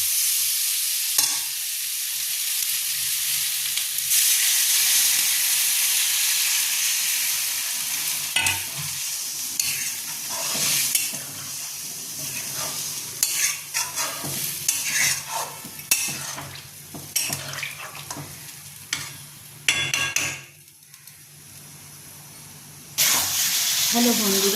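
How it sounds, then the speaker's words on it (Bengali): Potatoes and pointed gourd frying with spices in a pan, a continuous close sizzle with frequent scraping stir strokes and clinks of a spatula, growing busier toward the end, with a voice talking at times. "এবার আলু পটলটাকে ভালো করে কষাবো মশলার সঙ্গে"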